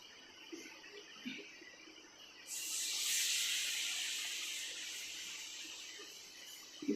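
Batter for sweet palm fritters (taler bora) drops into hot oil and sets off a sudden, steady sizzling hiss that swells and then slowly eases, with a few soft taps before it and no talking.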